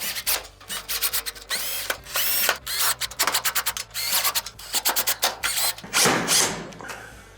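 Screws are driven into a panel of a Whirlpool, KitchenAid or Kenmore oven range, producing repeated short rubbing, whirring bursts in an uneven rhythm, close and fairly loud, with no talking.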